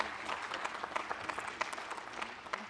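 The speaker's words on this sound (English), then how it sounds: "I think that deserves a round of applause." An audience applauds at a ribbon-cutting ceremony for a Department of Public Safety aircraft hangar, a moderate, fairly soft wash of many hands clapping steadily.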